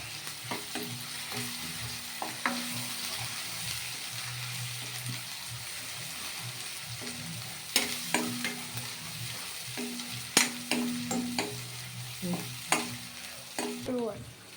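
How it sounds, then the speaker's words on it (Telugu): Ginger and garlic fry in oil in a pot for chicken curry, a steady sizzle broken by repeated sharp scrapes and clinks of a spoon stirring, some taps in quick clusters, close and without talk. "అల్లం ఎల్లిగడ్డ నూనెలో కూడా బాగా వేగనివ్వాలి"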